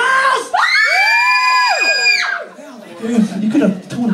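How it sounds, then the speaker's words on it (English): Women in a concert crowd at the Hard Rock Cafe Edinburgh scream together on cue, a loud, sustained high-pitched shriek that cuts off into scattered yells and crowd noise. "Let me hear your scream, girls!"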